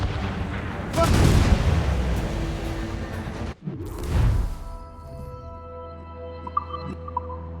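Ship cannons in Assassin's Creed Rogue fire in heavy booming volleys during a naval battle, rolling and overlapping, followed by a sharp drop and one more blast before fading into a rumbling ambience with faint chimes.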